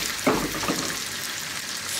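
Rice garnish frying in a pan while being stirred, a soft close sizzle with a brief scrape of a spoon near the start, fairly quiet throughout.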